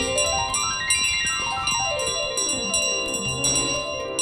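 A bell rings repeatedly in Untitled Goose Game as it is carried, with bright overlapping metallic chimes that jangle and cascade downward in pitch over a steady busy ringing texture.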